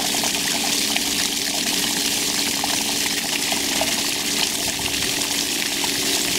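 Backwash water flows steadily out of an Intex 2800 GPH sand filter pump without a hose attached, a loud constant gushing rush over a low pump hum.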